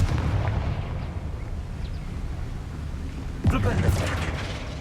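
The Confringo spell in Hogwarts Legacy, a fiery blasting attack, lands as a sudden loud burst with crackling tail past the midpoint over a rumbling game background.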